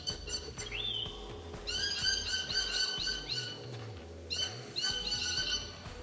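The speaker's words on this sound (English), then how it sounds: "We got birds in the background." Several birds chirp and call outdoors in bursts of high, tonal song, with quieter patches between, over low background rumble.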